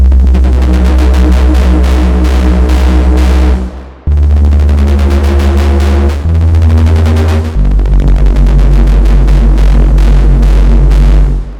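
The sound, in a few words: growling synth bass preset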